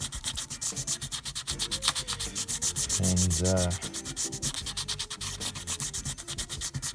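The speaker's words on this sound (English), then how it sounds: "This is really just the fun polishing process, and I'm using some 220, some foam back, I think it's 800" A Fender '62 Custom Telecaster body is sanded with 220 and foam-backed 800 grit paper in fast, rhythmic back-and-forth rubbing strokes, close and steady, with a brief whirring burst midway.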